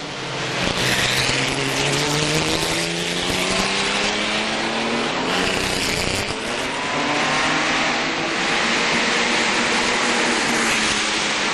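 Historic ERA race car at speed on the Monaco street circuit during a historic Grand Prix, a loud, continuous engine roar with rising and falling pitch as it accelerates and shifts, close and steady throughout.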